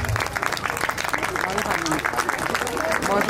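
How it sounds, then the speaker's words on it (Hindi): Audience applause at a school annual function fills the space with steady, dense clapping from a crowd, with voices mixed in underneath. "तालियों की आवाज आती रहनी चाहिए।"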